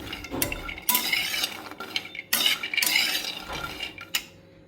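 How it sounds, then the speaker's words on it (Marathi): Cashews and almonds dry-roasting in a pan over a low flame, stirred with a spoon: repeated scraping and clinking strokes of metal against the pan, nuts rattling in bursts, close and fairly loud with short pauses between strokes. "काजू आणि बदाम आपले छान भाजून झाले आहेत"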